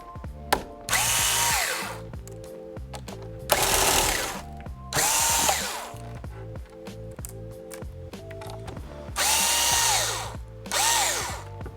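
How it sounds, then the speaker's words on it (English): A power screwdriver whirs in repeated short bursts of a couple of seconds each, backing out the LCD screws on a Lenovo 100E G3 Chromebook, with small clicks and handling between runs. "you can remove the screws that are holding the LCD in"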